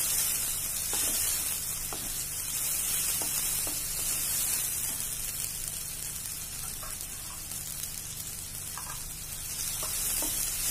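Curry leaves frying in hot oil for a cauliflower and tomato curry, giving a steady, close sizzle with faint scattered pops and crackles throughout, no voices.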